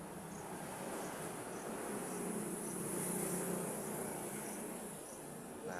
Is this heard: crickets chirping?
yes